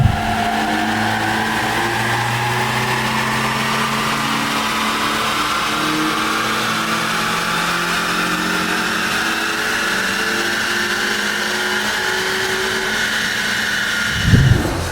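BMW E46 318i with a naturally aspirated 2-litre engine revs on a dyno during mapping, a loud, sustained rising engine note that climbs steadily for most of the run before a short burst near the end.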